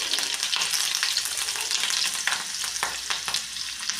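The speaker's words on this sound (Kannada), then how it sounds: "ನೆಕ್ಸ್ಟು ಇದಕ್ಕೆ ಕಟ್ ಮಾಡಿ ಇಟ್ಕೊಂಡಿರೋಂಥ ಸಣ್ಣ ಸಣ್ಣ ಬೆಳ್ಳುಳ್ಳಿ ಹಾಕಾಕತ್ತೀನಿ ನೋಡಿ" Chopped garlic drops into hot oil already holding cumin and mustard seeds, setting off a steady, close sizzle with crackling pops and stirring throughout; no one speaks.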